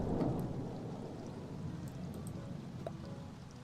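Rain and a low rumble of thunder play in the video game Staxel, a soft steady wash of rainfall with a deep roll fading in the background.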